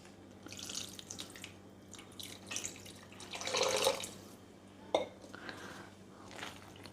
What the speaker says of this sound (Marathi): आणि आता आपल्याला यामध्ये पाणी घालायचे.